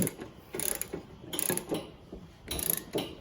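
Ratchet tightening the blade bolt on a John Deere Z235 riding mower while fitting Gator blades, three quick bursts of rapid clicking separated by short pauses, close and clear with no talking.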